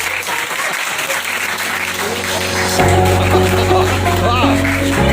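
Clapping from participants in an online class, a dense, loud round of applause that continues throughout, joined by a steady tone and some voices.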